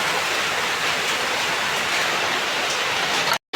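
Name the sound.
rain falling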